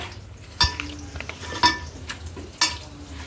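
A spoon stirs yogurt into mutton biryani in a pot, soft scraping and mixing broken by three sharp metallic clinks against the pot about a second apart, close and without talk.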